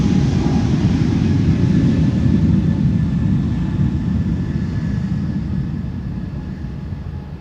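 Airliner engines spooling up for takeoff on the runway at Schiphol, a dense low roar with a faint whine, steady and fairly distant, gradually fading toward the end.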